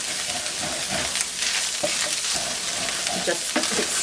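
Beef mince and onions fry in a pan with a constant crackling sizzle, broken by repeated scraping and stirring strokes close by, with no talking.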